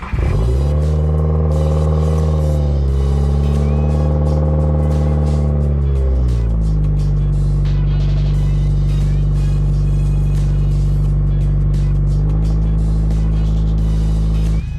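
A Mazda 3 drives on the road, its engine droning loudly from inside the cabin with gear shifts and shifting revs, plus clatter and road noise throughout.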